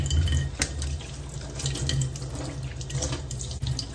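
Tap water runs steadily into a sink to soak bracelet charms, a close, continuous splashing flow with no speech.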